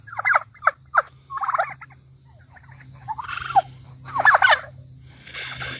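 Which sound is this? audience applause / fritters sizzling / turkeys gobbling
turkeys gobbling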